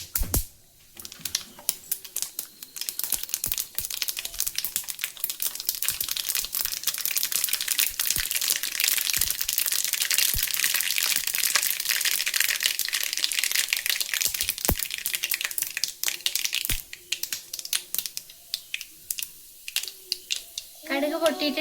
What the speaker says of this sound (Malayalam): കടുക് നല്ലോണം പൊട്ടി വരട്ടെ.